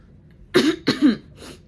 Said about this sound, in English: if I cough, I'm just gonna warn you now, I might cough